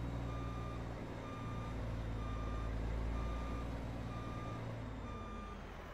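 A semi truck hauling a wine tanker reverses in American Truck Simulator, with a steady series of evenly spaced backup beeps over a loud diesel engine rumble and no talking.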